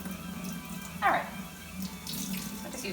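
Food being rinsed under a running kitchen tap while making German dishes, a steady soft water hiss with a brief louder splash partway through, close by and without talk.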